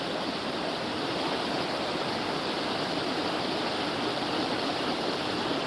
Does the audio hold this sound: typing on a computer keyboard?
no